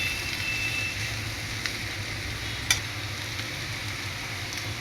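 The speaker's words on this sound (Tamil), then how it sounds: "இப்போ எல்லாத்தையும் நம்ம கிண்டி விட்டுக்கலாம் நல்லா அழகாட்டு." Homemade fried rice with soy sauce and vinegar being stirred in a pan over a steady sizzle, with a sharp clink near the middle and faint scrapes, close by and with no talking.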